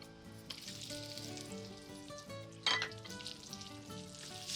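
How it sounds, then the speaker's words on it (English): Onion hitting hot bacon fat in a pan sizzles with a steady crackling hiss, and one brief louder burst partway through; no talking. "So let me throw in the onion."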